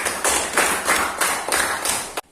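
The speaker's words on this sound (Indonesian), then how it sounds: "Beri aplaus untuk Mas Naifah." A classroom applauds a student with rhythmic unison clapping: about seven strong, evenly spaced bursts of many hands, close and loud, stopping abruptly at the end.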